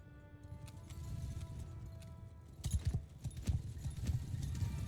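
Cavalry horses' hooves clop in Mount & Blade II: Bannerlord on a battlefield. The hoofbeats start soft, then grow louder and heavier in the second half as the riders advance.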